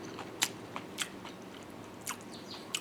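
Someone bites and chews spicy garlic shrimp spaghetti up close, a handful of soft crunchy bites spaced irregularly over quiet mouth sounds.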